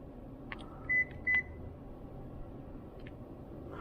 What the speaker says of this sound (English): So I just heard the car beep